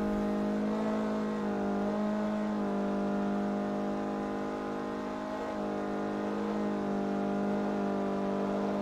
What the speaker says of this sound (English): The engine noise of this car is just...